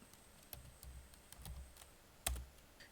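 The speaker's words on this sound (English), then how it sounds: "Now you type in neofetch." Fingers type on a laptop keyboard during an Arch Linux install, a few quiet, sparse key clicks with one sharper tap near the end, close by in a quiet room.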